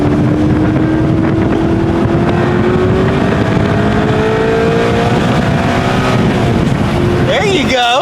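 A Maserati car engine drones steadily at high speed with a slowly rising pitch, and rushing wind lies under it. Near the end the pitch sweeps sharply up and down as the gears shift.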